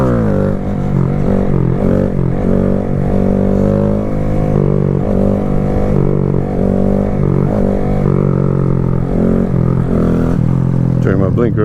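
A Grom motorcycle engine drones steadily and loudly through a wheelie, its pitch wavering with throttle changes and wind buffeting the rider's microphone.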